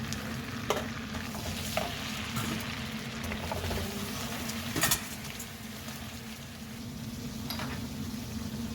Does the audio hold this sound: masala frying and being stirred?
yes